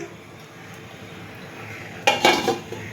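A bowl of prawn bhapa is set on a gas stove and covered, giving a short cluster of clattering metal and dish knocks near the end after quiet room tone.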